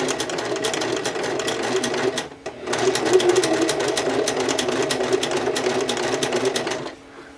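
A sewing machine runs steadily, stitching forward, pausing briefly as it switches to reverse, then running on in a continuous close, loud whir until it stops near the end.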